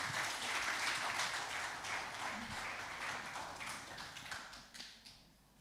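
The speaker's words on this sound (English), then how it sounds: "Everybody give a hand clap for Numa." A youth service audience claps their hands together, a dense patter of applause holding steady and then thinning out toward the end, with no one speaking over it.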